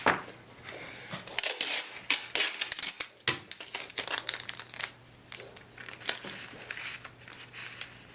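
Shears slicing through dress fabric for an 1876 toddler's bodice, a run of dry crisp snips and crinkling rustles, close and fairly quiet with irregular bursts and short pauses.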